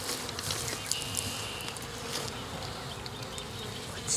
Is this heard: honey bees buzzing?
yes